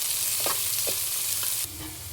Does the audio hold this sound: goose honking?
no